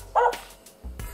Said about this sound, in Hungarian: Kutya!